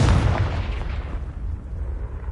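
A Confringo blast spell fired in the Hogwarts Legacy video game: a loud, booming explosive burst up front that rolls off into a rumbling decay, heard alone.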